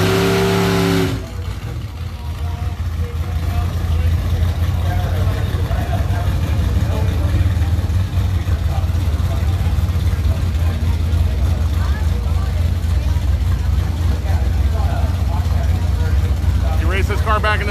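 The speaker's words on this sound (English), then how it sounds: "John Barkley, let her rip, my friend. Holy red line" A Tri-Five drag racing car revs hard at the starting line of a drag strip, its engine a loud, sustained roar held near the redline for many seconds, with a commentator's voice briefly heard over it.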